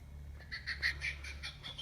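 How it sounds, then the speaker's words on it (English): Recorded bird calls playing from a children's bird sound book, a quick series of faint chirps and tweets over a low steady hum. "So this one has bird sounds in it."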